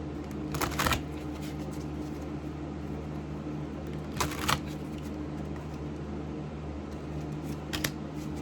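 Oracle angel cards being shuffled, three separate bursts of riffling card sounds spaced apart over a low steady background hum, close and fairly quiet.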